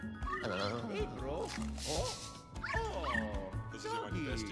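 A dog in the video game Luigi's Mansion 3 barks and yips in quick bursts, clear and close, mixed with game sounds and a player's voice.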